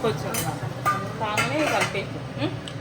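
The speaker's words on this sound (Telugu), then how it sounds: "ఆ టమాటో రైస్ మనం కలుపుతాం." Tomato rice being mixed in a pot, with close scraping and clinking of a spoon against metal amid a faint sizzle, while people talk over it.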